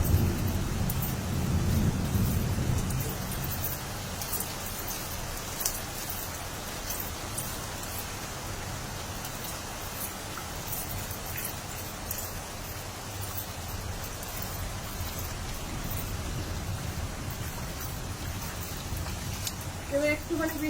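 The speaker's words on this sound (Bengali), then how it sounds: "কেন বৃষ্টি হচ্ছে তো সেই জন্য" Steady rain falls on a rooftop where water is pooling, forming a continuous broadband hiss with a louder low rumble in the first few seconds, with no other distinct sounds on top.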